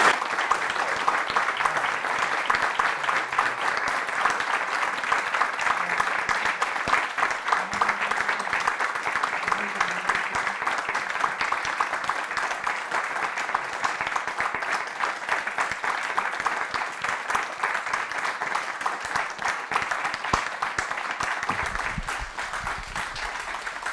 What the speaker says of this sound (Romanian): Cred că sunt cele mai numeroase aplauze continui după o conferință dintre toate cele de până acum și bine meritate.